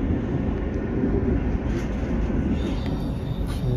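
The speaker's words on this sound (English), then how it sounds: "So this is the train which I'm traveling in." A double-decker regional train in Berlin runs with a loud, steady low rumble and rolling wheel noise, a faint high whine riding above it throughout.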